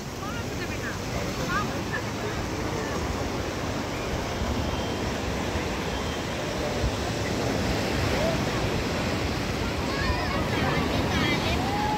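Sea waves wash in at high tide on Old Digha beach in the afternoon, a continuous broad roar of surf with wind buffeting the microphone throughout.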